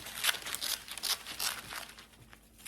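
Metallic wrapping paper being torn and crinkled by hand while wrapping candy gifts, a few close, crisp ripping bursts in quick succession, fading to quieter rustling.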